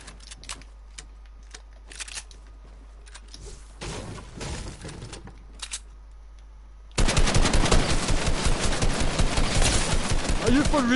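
SMG gunfire in Fortnite: scattered shots early on, then a loud, rapid sustained burst of automatic fire over the last several seconds, with a voice heard faintly in the first part.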